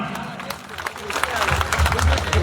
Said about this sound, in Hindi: इनके लिए भी एक बार जोरदार तालियां